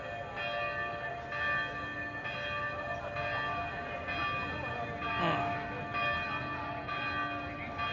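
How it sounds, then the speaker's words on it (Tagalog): A loud church bell rings with repeated, evenly spaced strikes over steady road and engine noise heard from a Honda Giorno 125 scooter ride. "Ang lakas ng bell ng simbahan."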